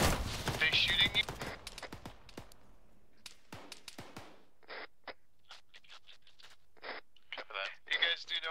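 Gunfire in a military video game: bursts of sharp shots, some rapid and clustered, others single, crackle at close range, with voices talking over the action.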